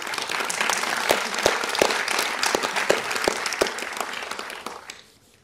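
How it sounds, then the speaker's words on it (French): An audience applauds steadily for several seconds, a dense patter of many hands with a few sharper claps, then the clapping fades out. "On les applaudit."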